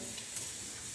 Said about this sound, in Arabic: نحرك مزيان،